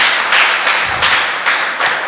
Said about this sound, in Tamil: கைத்தட்டுங்க பார்க்கலாம் அந்த 2 பேருக்கும்.